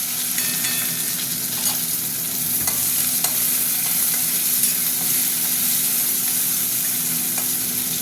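Onions frying in hot oil with whole cumin and bay leaf, a steady close sizzle with occasional light stirring scrapes and no voices.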